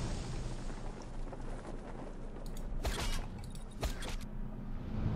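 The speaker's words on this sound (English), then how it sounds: "Did that explode behind me?" Explosions going off behind the player in the open-world action game Just Cause 2, heard as a steady low rumble with two sharp bursts around the middle, none very loud or close.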